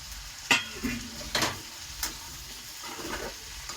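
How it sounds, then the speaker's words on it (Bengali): Okra and potato pieces fry with shrimp in a pan, a quiet sizzle broken by a few sharp scraping stirs of a spatula, close by and with no voices. "দিয়ে একটু ভাজা ভাজা করা হবে চিংড়ির সঙ্গে"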